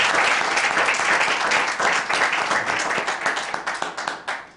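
A church congregation bursts into loud applause after a Hindi sermon, dense clapping that gradually thins and fades toward the end.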